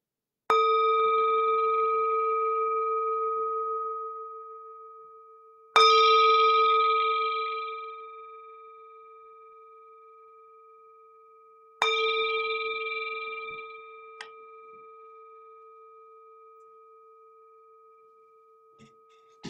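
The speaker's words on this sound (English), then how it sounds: "we'll begin and end this 20-minute meditation with the sound of the bell." A meditation bell is struck three times, several seconds apart, each clear metallic ring sustaining and slowly fading; no talking.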